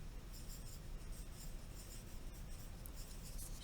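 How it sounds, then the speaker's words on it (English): Pen or pencil writing a grammar correction on paper, a steady close scratching and rubbing with faint breaks between strokes over a constant low hiss. "I'm gonna write the right way."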